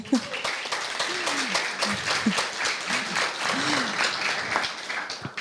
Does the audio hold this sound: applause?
yes